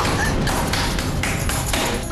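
A locked door is banged on repeatedly in a Hindi television serial scene, giving dull rhythmic thuds under a dense, loud background wash with no clear speech.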